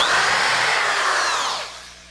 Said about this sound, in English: put the index pin in the last bore, tighten the dowel marks again, and then drill 5.